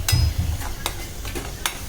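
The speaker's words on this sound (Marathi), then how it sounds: "मध्यम आचेवर वाटण छान तेलात परतायचं आहे" Ground masala paste sautés over medium heat in oil in a steel kadai for a Malvani-style fish rassa, with a low sizzle under a few sharp spoon scrapes and stirs against the metal.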